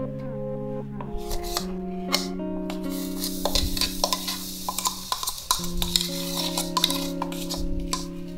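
A mixture is stirred into coconut in a pan over low flame while making paan ladoo, with a spoon scraping and clinking against the pan and a soft sizzle beneath, over a steady musical tone.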